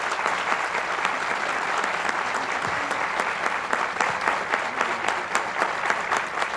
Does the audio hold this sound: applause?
yes